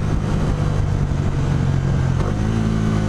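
A Bajaj Dominar 400 motorcycle engine roars steadily up close, a deep continuous rumble with a low throbbing hum and no talking.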